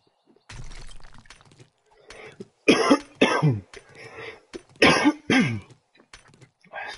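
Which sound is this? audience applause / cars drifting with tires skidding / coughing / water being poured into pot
coughing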